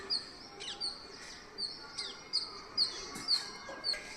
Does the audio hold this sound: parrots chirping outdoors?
yes